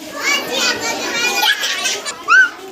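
A group of schoolchildren imitate a dog's bark with their voices, overlapping close, lively vocal yelps and calls in short bursts.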